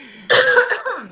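A single short cough, close and fairly loud, lasting under a second and fading into a brief throaty tail.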